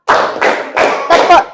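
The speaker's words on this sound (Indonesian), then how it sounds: "Coba teacher mau bikin dulu tepuk-tepuk ya" Students in a classroom clap together in a steady count, four full group claps in even rhythm, loud and near, with no voices over them.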